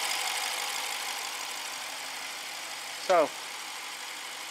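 A 2014 BMW 650 with the N63 engine runs steadily after a timing repair, a continuous idle hum with a rough, knocking edge. A short chirp cuts in partway through, and one word is spoken.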